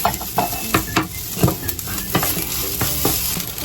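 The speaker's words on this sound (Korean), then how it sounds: "밥을 여기에다가 넣고 볶음밥도 할게요. 아까 볶은 이거 해물 넣고" Rice and seafood are stir-fried in a pan, hot oil sizzling steadily under repeated scraping and stirring strokes of a utensil, close and alone without talk.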